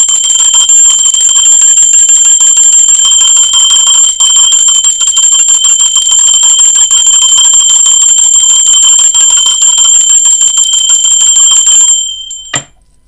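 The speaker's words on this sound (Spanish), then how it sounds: "Va campana" A bell rings loud and sustained, with steady bright ringing tones that hold for about twelve seconds before cutting off and fading.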